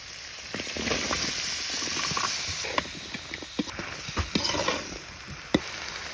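Vegetables, including beans, potato and tomato, hit a hot pan of fried spices and hiss steadily, with scattered pops and crackles breaking through the soft, close sizzle.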